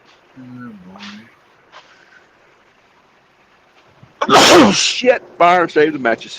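A loud close sneeze erupts midway, followed by a person talking. A softer voice is heard speaking earlier in the clip.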